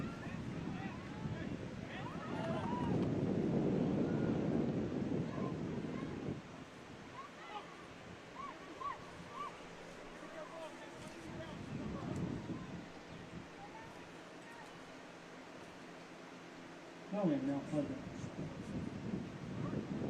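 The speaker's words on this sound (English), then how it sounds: "It is windy." Gusty wind buffets the microphone in loud rumbling bursts that swell and fade, with faint voices audible in the background, at an outdoor high school sports game.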